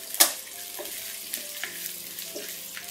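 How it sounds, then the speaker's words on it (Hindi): Raisins frying in hot oil in a home kitchen, a soft steady sizzle with a sharp clatter near the start and a few light stirring knocks, fairly quiet and without voices. "अब किशमिश को फ्राई कर लेंगे।"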